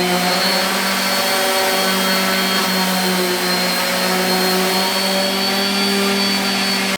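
A power sander runs on a 2x4 wooden sign with a loud, constant motor whine and steady tonal hum. It sounds close and continuous, without talk.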